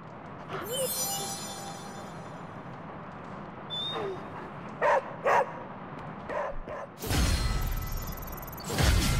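Charlie, a dog in Marvel Midnight Suns, gives a few short barks and yips with whimpering amid game ambience and swooshes, while someone talks at moments over it.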